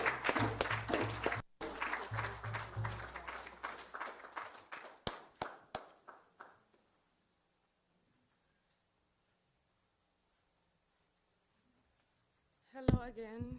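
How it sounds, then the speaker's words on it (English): Scattered claps at a memorial service mix with talk at first, then fade out into near silence before a voice resumes at the end. "I would love for everyone to give a warm round of applause to Jesse Jendah for the great works that you have done."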